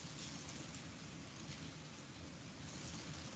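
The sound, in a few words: rain with thunder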